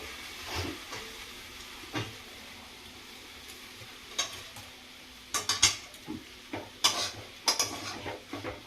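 Eggs with chopped coriander leaves stirred in a pan, a low sizzle broken by scattered utensil scrapes and clinks that grow quicker and louder toward the end.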